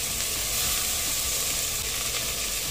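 Potato, carrot and green pea pieces fry in masala in a pan, giving a steady, close, even sizzle throughout with no talking.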